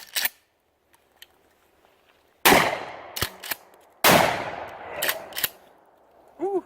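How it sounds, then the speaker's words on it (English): A TAC-14 shotgun firing 3-inch low-recoil buckshot outdoors: two loud, sharp blasts a couple of seconds apart, each trailing off in a long echo, with clattering handling sounds between them. "This thing's actually kind of fun to shoot, even with obviously the 3-inch shell that I put in there"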